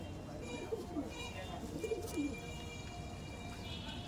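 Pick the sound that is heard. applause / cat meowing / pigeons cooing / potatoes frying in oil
pigeons cooing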